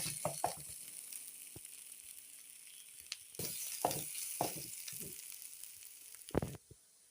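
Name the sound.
ground fish frying with onions in a pan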